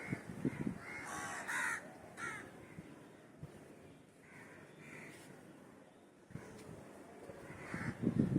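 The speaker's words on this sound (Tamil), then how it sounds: "ஏன் இந்த காக்காலாம் கத்துது?" Several crows caw repeatedly at mid distance, harsh calls coming in irregular bursts over quiet outdoor ambience.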